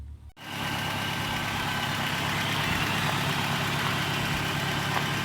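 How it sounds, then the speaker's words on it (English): A steady truck engine idle rumbles continuously after a brief start, even and unbroken, with no talking. "here's how it's idling right now. I just started it up a few seconds ago."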